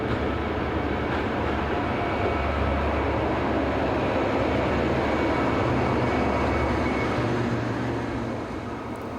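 Diesel passenger train on the Grenoble line, a broad steady rumble of running wheels and engine holding at constant loudness throughout, easing slightly at the end, with no voices.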